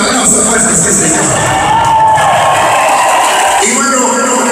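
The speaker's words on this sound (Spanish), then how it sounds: "Aplauso fuerte ese Señor." A large crowd at the Sonido Condor Sonifest 2015 concert in Chicago cheers, whoops and applauds loudly and continuously, with an announcer's voice calling out over the noise.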